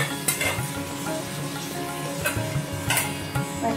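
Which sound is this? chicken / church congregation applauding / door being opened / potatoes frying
potatoes frying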